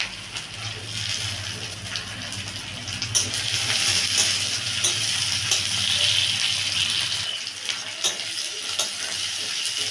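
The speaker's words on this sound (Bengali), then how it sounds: "এবার দিয়ে দেবো টমেটো কুচি।" Chopped tomatoes dropped into egg curry frying in a pan give a steady wet sizzle with stirring scrapes, louder in the middle and easing off near the end.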